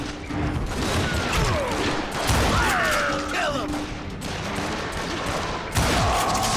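Shotgun gunfire in the Call of Juarez Gunslinger video game, several sharp blasts and thuds scattered over a busy game soundtrack, with a louder shot near the end.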